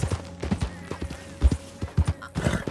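Horse hooves in Red Dead Redemption 2 clop along at a steady riding rhythm, close and clear, with a few faint background game sounds and no talking.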